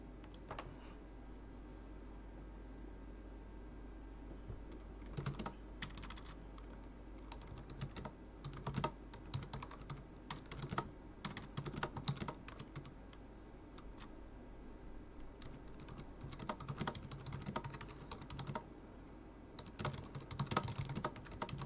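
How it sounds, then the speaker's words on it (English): Typing on a computer keyboard during a live football watch-along stream, bursts of quick clicking keystrokes scattered irregularly over about twenty seconds against a low steady hum, close to the microphone with no talk. "I'm just typing to someone in Discord."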